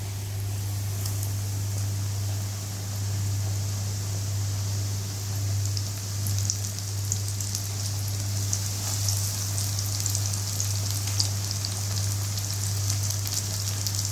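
Breaded chicken panée frying in hot oil, a steady, even crackle and hiss that holds throughout with a low hum underneath and no talking.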